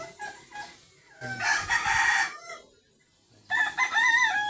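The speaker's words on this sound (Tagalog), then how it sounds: "Marami ditong alagang manok." Two loud rooster crows ring out nearby, separated by a short pause, with faint clucking of chickens between them.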